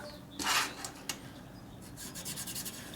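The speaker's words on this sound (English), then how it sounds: "It's a real fine stone. All we're doing is deburring the ring." A fine stone deburrs a piston ring for a Harley XL 1200 engine in short rubbing strokes, one louder scrape followed by a few quieter rasping passes, close and without speech.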